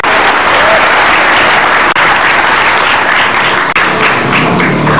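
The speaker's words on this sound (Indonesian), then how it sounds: "Yes, kasih tepuk tangan dong geng motor imut." Studio audience on an Indonesian evening talk show applauding, a loud, dense wash of clapping that carries on steadily and close throughout.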